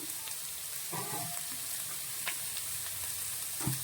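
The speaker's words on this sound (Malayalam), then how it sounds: "എന്നിട്ട് ഇത് നന്നായിട്ട് നമ്മൾ വഴറ്റിയെടുക്കണം." Fennel and coriander seeds sauté in a hot pan, crackling with a steady close sizzle broken by a few scraping stirs of a spoon, and no one speaks.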